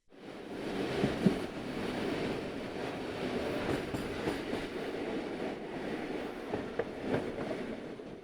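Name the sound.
passenger train engine humming while running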